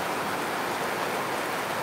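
A short stretch of heavy, windless rain in Dhaka, dense and constant like a close, uniform hiss of water hitting surfaces.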